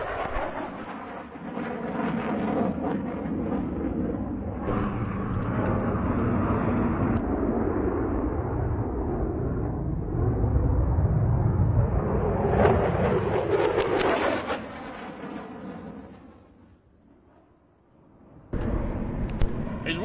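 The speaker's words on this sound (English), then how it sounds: "The formation of F-16s is led by Captain Michael Flash Bashirs and his wingman." A Thunderbirds formation of F-16 jets passes over an airshow with a long, swelling roar that peaks, fades briefly and then returns.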